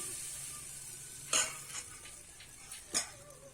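A ladle of rice batter for thin chakli pitha poured onto a hot oiled pan, giving a faint steady sizzle with two sharp metallic clinks of the ladle against the pan, quiet and without speech.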